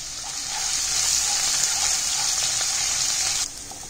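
Garlic, green chilli and ginger frying in masala for a spinach kofta curry, a loud, bright, continuous close sizzle that swells, holds steady, then drops abruptly near the end.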